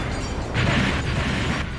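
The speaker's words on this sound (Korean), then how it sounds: "그곳은 폭발 화재가 일어나고 있었죠" An anime explosion and fire in a warship's system room: a dense, roaring rumble that swells partway through, close and loud, with no voices.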